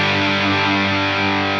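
Electric guitar played through a ProCo Rat 2 distortion pedal, a thick, sustained distorted chord ringing steadily and loudly on its own for under two seconds.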